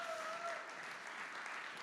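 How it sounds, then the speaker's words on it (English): Steady applause from an audience at a landscape architecture awards ceremony fills the whole stretch, a dense, even clatter of many hands clapping, with a faint sustained tone over the first half. "Please give them a big round of applause"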